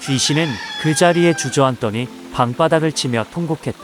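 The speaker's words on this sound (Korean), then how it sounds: "그러는 사이 시간은 흘러 닭 울음소리가 들려왔다." A rooster crows at dawn as part of a folk tale, with drawn-out calls heard under a steady narrating voice that speaks throughout.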